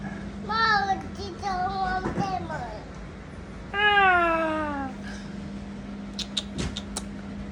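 Cat meowing several times in a row, clear high drawn-out cries with a longer falling meow midway, close by over a steady low hum, with brief faint clicks near the end.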